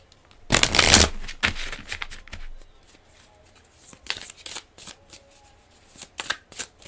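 Tarot cards are shuffled up close in a quiet room, opening with a loud riffling burst and then continuing as softer, irregular card slaps and sliding rustles.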